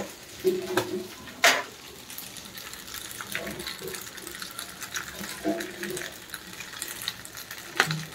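Pasta coated in masala being stirred in a frying pan: a soft background sizzle broken by intermittent scraping and knocking strokes of the spoon, a few louder clacks standing out.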